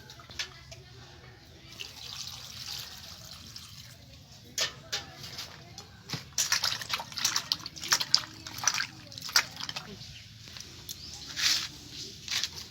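Chopped elephant apple (chalta) pieces rinsed with water in a home kitchen, with intermittent splashing, dripping and rubbing that grows busier toward the end, fairly close and moderately quiet.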